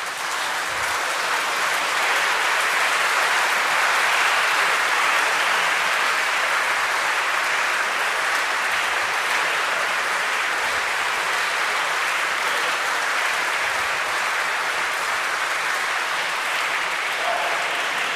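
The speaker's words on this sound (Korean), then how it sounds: "모두 일어서시어 큰 박수로 맞이해 주십시오" A standing audience gives loud, sustained applause as a cardinal, bishops and priests enter a Catholic celebration marking a priest's 50th ordination anniversary, a dense even roar of clapping throughout.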